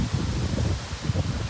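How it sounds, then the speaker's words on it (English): Blustery storm wind gusts of 25 to 30 mph on the Charleston waterfront during Hurricane Ian roar across the microphone in low, rumbling surges, steady and close with no voices. "you can tell this storm's rolling in. These last few gusts have been registering around 25 to 30 mile an hour."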